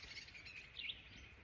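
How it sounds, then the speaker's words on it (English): Small birds squabble and chirp at a distance outdoors, giving faint, quick tweets with a brighter flurry of calls just before the middle. "birds over there fighting."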